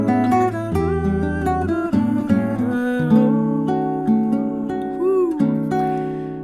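Musical chords ring out in a clear progression that includes an altered subdominant chord, with sustained harmonic tones and a few melodic slides, and no voices over them.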